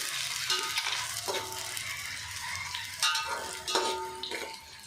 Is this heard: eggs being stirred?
yes